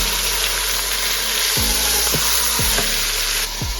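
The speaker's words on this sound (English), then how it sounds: "I think it might be time to flip the meat now." Beef sizzles steadily in a hot pan, a continuous bright crackle, with several short thuds and scrapes as the meat is turned and flipped; no talking.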